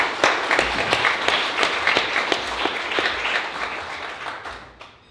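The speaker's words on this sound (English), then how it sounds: "could we give them a round of applause" Audience applause at a city council campaign kickoff, a dense wash of many hands clapping steadily at close range, holding for about five seconds before thinning toward the end.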